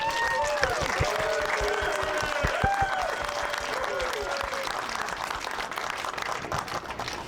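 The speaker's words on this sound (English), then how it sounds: "give a huge round of applause to our artist, Colleen Ganos." Audience applause at an outdoor ribbon cutting ceremony for a historical society mural, steady sustained clapping from a crowd with some voices and cheers mixed in, fairly loud throughout.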